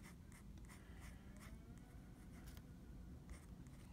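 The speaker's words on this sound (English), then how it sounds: "fine nibs are really quite fun to draw with" A fine-nib Sheaffer pen draws small doodle bugs on paper, giving faint, close scratchy strokes in short, repeated bursts over a quiet background.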